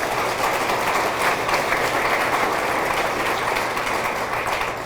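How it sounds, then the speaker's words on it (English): A gymnasium-style crowd applauds a high school athletic hall of fame inductee, steady, full clapping throughout that begins to taper at the very end, with no speech over it. "That deserves a round of applause."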